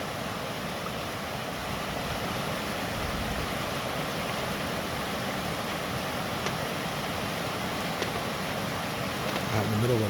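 A stream flows steadily out in remote open country, a dense, even rush of running water that stays loud and close throughout with no pauses.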